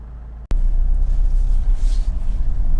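Honda CR-V 2.2 i-DTEC diesel 4x4 on a road test, a steady loud low rumble of engine and road noise from inside the cabin, broken by a single sharp click near the start.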